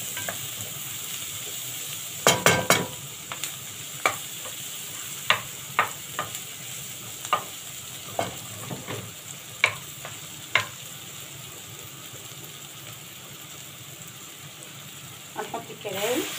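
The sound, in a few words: kidneys and garlic sizzling while being stirred in a pan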